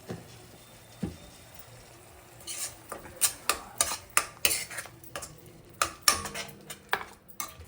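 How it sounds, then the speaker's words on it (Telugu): A spoon taps and scrapes a pan in quick repeated strokes as tomato paste fries and is stirred for a potato and green peas curry. A faint sizzle sits under the clinks. "కలిపిన తర్వాత టమాటా పేస్ట్ వేసి వేయించాలి."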